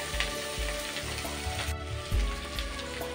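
Boiled bitter gourd and potatoes frying in a pan, a soft steady sizzle with occasional light stirring and turning, quiet and close with no talk.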